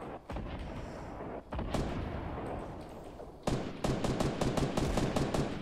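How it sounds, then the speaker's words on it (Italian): Grenade blasts and bursts of gunfire in a Fortnite match, with dense rapid shots and booms running throughout, growing louder and more rapid toward the end. "Mi tirano granate, Steph."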